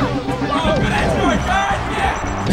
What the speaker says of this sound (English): Crowd really into this one.